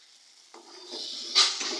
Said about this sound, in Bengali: একটুখানি জল দিয়ে দিলাম যাতে মশলাটা পুড়ে না যায়